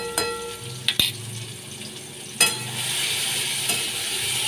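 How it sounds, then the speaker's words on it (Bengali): Ginger and cumin powder frying in a pan, a steady sizzle broken by a few sharp clinks and scrapes of a spoon against metal, close up, with no one speaking. "ভালো করে কষিয়ে দিচ্ছি"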